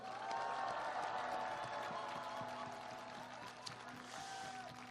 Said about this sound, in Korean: 격려의 박수 한번 부탁드립니다.